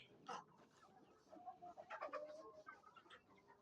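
Sick free-range desi chickens cluck and make rough, rattly, congested-sounding calls in short bursts, fairly faint, with no talking.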